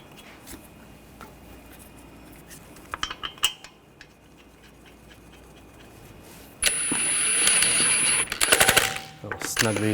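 Lug nuts are run onto a Buick Encore wheel by hand. Light metallic clicks and scrapes come first, then a loud burst of rapid rattling, like a power wrench spinning a nut, and a few sharp clanks at the end.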